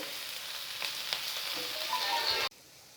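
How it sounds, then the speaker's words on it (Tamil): Sliced capsicum and vegetables sauté in a pan for homemade chappathi noodles, giving a close, steady sizzle with small scraping clicks that cuts off abruptly near the end. "எல்லாம் ஒரு 2 நிமிஷம் வதங்கட்டும்."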